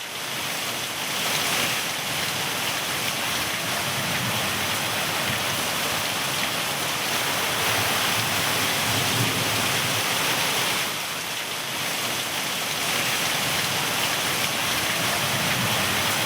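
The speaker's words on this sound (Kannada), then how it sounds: "ಬೆಂಗಳೂರಿನಲ್ಲಿ ಸುರಿದಂತಹ ಧಾರಾಕಾರ ಮಳೆ" Heavy downpour lashing Bengaluru, a steady dense roar of rain with surf-like washing swells, loud and continuous throughout with no voices.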